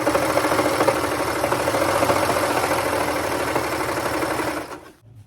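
A serger overlocker runs steadily for about five seconds, finishing the waist seam of a McCall's 8281 summer dress, with a fast, even mechanical whir and rattle before it stops abruptly.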